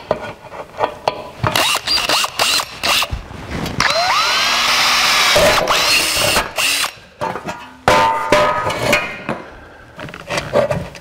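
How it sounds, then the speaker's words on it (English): Power drill boring holes through a metal switch pedestal for a 1949 Chevrolet gasser, in several loud bursts of whining and grinding separated by short pauses, close up with no talking. "Drill some holes."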